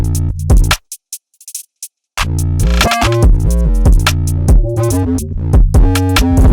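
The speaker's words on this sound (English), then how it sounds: "after that, I just add this kick." Dark drill beat built in FL Studio, with a kick drum pitched down about five semitones: loud, deep booming hits under a busy pattern, after a brief stuttering break near the start.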